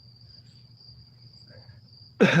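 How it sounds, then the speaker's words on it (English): Crickets chirp in a steady, thin high trill that runs continuously at low to moderate level in a quiet space, until a sudden louder noise cuts in at the very end. "Here the crickets. We got the crickets going on."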